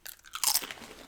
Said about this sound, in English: Very nice crunch, very nice texture.